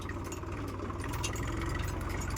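A tractor engine runs steadily while digging soil, a close continuous low idling rumble with faint rattling and no voices.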